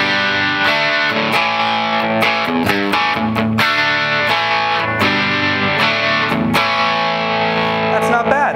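Electric guitar played through a Blackstar amp with light reverb, at light-to-medium gain with a sultry tone; sustained chords and single notes ring out steadily and loud, with no talking over the playing.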